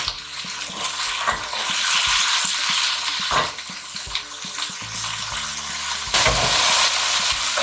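Potato hash frying in a pan and being stirred, a loud continuous sizzle with repeated scraping and clunking strokes of a spatula, close and without talk.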